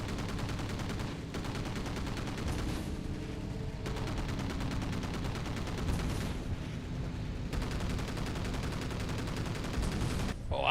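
Aircraft strafing in Battlestations: Pacific gives a dense, sustained rattle of rapid machine-gun fire, loud and continuous, with brief shifts in intensity under a steady engine drone.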